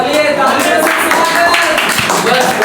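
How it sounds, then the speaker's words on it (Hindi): A crowd at an Independence Day speech event claps steadily in applause, a dense patter of many hands that continues throughout. "बहुत ज़्यादा तालियां हो गई हमारे लिए।"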